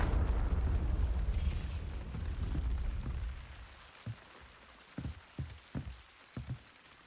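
Confringo blasting spell in Hogwarts Legacy, a loud rumbling burst that fades over a few seconds, followed by a scatter of small popping impacts.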